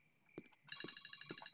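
A telephone in the horror game IMSCARED rings in a shrill electronic warble, repeating in short pulses with soft thumps beneath, faint overall.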